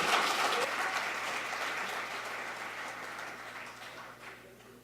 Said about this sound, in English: So I want you all to give a big, big round of applause for Jennifer Shehane.